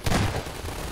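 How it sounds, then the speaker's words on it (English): Enemy rifle fire in Half-Life 2: Episode 2, a loud, dense burst of gunfire packed into under a second, close and harsh with no pause. "their rifle is so loud"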